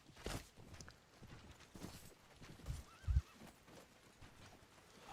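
Horses in a medieval video game battle, with hooves clip-clopping and a neigh rising over a faint, busy background of fighting, fairly quiet overall.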